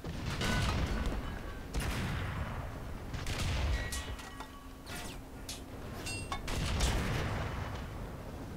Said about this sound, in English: I'm firing both. Just throwing rounds downrange.